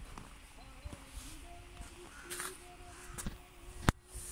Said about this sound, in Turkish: Karga sesini duyuyorsunuz mu?